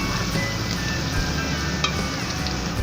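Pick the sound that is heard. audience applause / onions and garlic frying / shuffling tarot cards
onions and garlic frying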